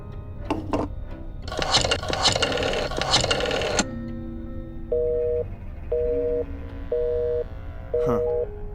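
In Black Mirror 2, a telephone is dialed with rapid clicking and tones, then a busy signal repeats as evenly spaced beeping pulses, clear and close, with no talk over it.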